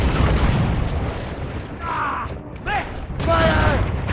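Ship cannons firing in an Assassin's Creed Rogue naval battle, deep booms and rumble under shouted voices, with a louder burst near the end.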